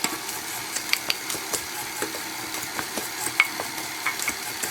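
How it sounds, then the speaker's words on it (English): Half a cup of chopped jalapenos tipped into a mixing bowl of sticky no-knead jalapeno cheddar bread dough and stirred in, giving close, steady wet scraping and stirring with scattered soft clicks and knocks, and no voices. "we're going to dump this right into the mixing bowl"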